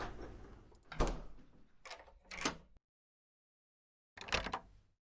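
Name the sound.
door open/close sound effect in Foundry VTT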